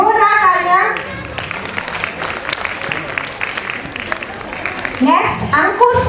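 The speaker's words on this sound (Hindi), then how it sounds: "जोरदार तालियां" Audience applause at a school annual function greets a student announced for top marks, a dense clatter of claps running through the middle, with a voice speaking over it at the start and end.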